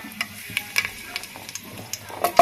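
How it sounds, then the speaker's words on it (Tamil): Bay leaf dropped into hot oil and ghee for prawn biryani, giving a soft, steady sizzle and crackle with a few small pops and stirring clicks near the pan. "நெய் எண்ணெய் சூடாயிருச்சுங்க பிரியாணி இலை போட்டுக்கலாம்"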